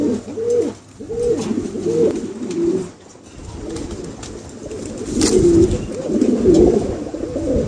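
Pigeons coo close by in repeated throaty, rolling calls, one phrase after another with brief pauses, over faint background noise.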